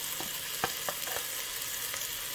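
Onions fry in olive oil in a hot pan with a steady close sizzle, marked by a few soft clicks of a utensil against the pan.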